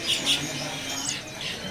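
Green parakeets squawking in a bird shop, two sharp high calls near the start with further chirps and soft bird chatter over steady background noise, a faint voice present.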